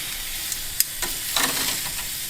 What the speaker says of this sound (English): put the lobster and the shrimp on the grill grate.